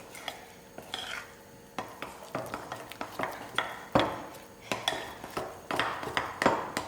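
A batter of flour and milk for Indian donuts being stirred in a bowl, with repeated close clinking and scraping of a utensil against the sides in an irregular rhythm, no talking.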